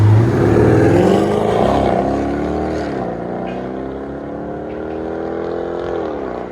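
A 2019 Dodge Durango R/T with a 5.7L HEMI V8 and Flowmaster Outlaw exhaust accelerates hard from close by, its loud, deep exhaust note climbing steadily in pitch through a long continuous pull.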